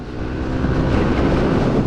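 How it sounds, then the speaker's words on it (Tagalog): Strong wind roars steadily across the microphone, a dense low rumble with no let-up and no voices. "medyo malakas lang yung hangin pero okay lang yan"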